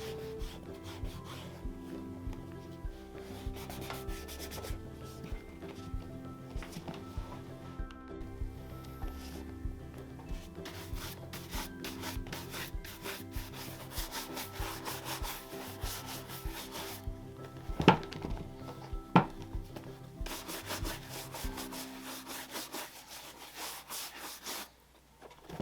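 Wax being rubbed onto Allen Edmonds leather shoes, making a soft, steady brushing and rubbing in quick repeated strokes, close up and fairly quiet.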